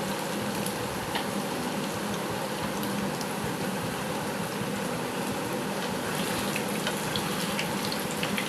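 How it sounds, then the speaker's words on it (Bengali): Potato and coconut balls sizzle in hot oil, a steady dense crackle and bubbling that runs unbroken and fairly close, with small pops scattered through it. "তেলে ভালো করে ভেজে নিতে হবে।"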